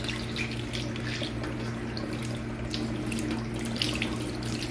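Water runs steadily from a tap into a sink as a makeup brush is wetted, a continuous close hiss and splash with no talking.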